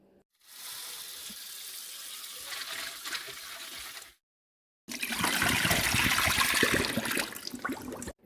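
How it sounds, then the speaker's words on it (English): Dried chili peppers are rinsed under a running kitchen tap for pozole rojo, a steady hiss of water that stops briefly before gushing louder and splashing into the sink for several seconds. "rinse them so all the dirt, the stuff that is on them comes out before you soak them in hot water"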